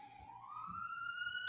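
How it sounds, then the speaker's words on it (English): A wailing siren rises steadily in pitch, fairly distant and continuous, with faint low rumbling beneath it. "It's a siren."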